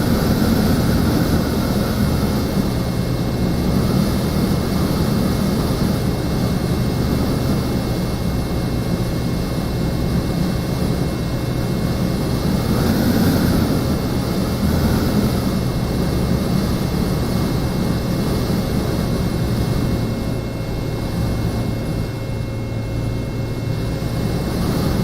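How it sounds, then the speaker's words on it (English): Propeller engine of an A2A Comanche in Microsoft Flight Simulator drones at a steady, even pitch for the whole stretch, loud and constant with a faint high whine over the low rumble. "that sounds kind of messed up. It sounds like an engine running."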